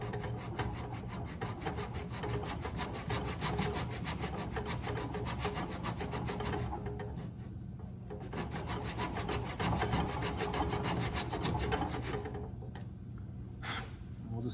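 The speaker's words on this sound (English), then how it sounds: "So I'm just kind of pinching that saw to the jig there, and just kind of back and forth," A back saw trims ukulele side kerfing held in a jig, making steady, light back-and-forth strokes with a dry, rhythmic rasp on wood that runs continuously and up close, with a brief pause near the end.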